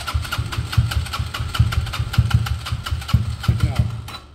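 A Peugeot Tweet 125cc scooter engine with a freshly rebuilt top end cranks and catches, then settles into an uneven, pulsing idle with rhythmic chugging, close by and fairly loud, cutting out near the end.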